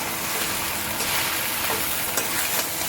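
Chowmein stirred in a frying pan gives a steady, close broadband sizzle of frying with scraping stir noises mixed in, continuous and fairly loud across the whole stretch, with no voices.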